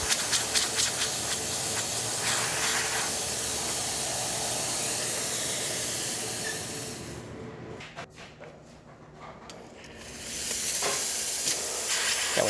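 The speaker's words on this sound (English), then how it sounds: "of course steam working perfectly fine" The steam wand of an Isomac Milano espresso machine lets out a loud, continuous hiss. It drops away briefly partway through, then returns at full force.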